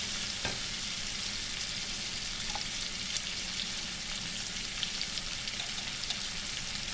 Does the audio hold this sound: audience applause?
no